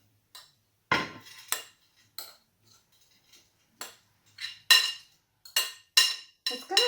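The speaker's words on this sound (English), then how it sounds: "so I'm going to just put it in a glass pan" Granola being dropped into a glass baking pan, a series of separate close crisp clinks and rattling scatters with quiet gaps between them, and no talk.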